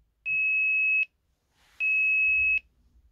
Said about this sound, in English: Now it should go 5, 4, 3, 2, 1, and have a lower pitch of beep.